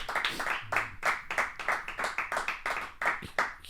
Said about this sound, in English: clap it up, dude.